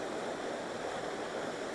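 A waterfall spills down over cascades, a steady, even rush of falling water at moderate level, unbroken and with no voices.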